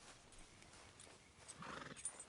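Horse in Red Dead Redemption 2 whinnies and its hooves clip-clop, faint and steady at first, then a louder neigh rising near the end, with no talk over it.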